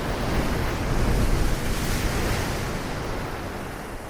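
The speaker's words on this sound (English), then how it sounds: "the waves battering the shore" Ocean waves batter a coastal shore in a steady, dense wash of surf, with wind gusting across the microphone; the roar swells slightly early on, then holds level with no voices present.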